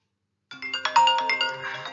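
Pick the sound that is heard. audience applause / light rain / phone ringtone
phone ringtone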